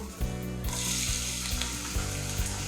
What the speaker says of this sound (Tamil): இதில் வந்து பட்டை, ஏலக்காய், லவங்கம் எல்லாம் போட்டிருக்கேன். இதை லைட்டாக ஃப்ரை பண்ணி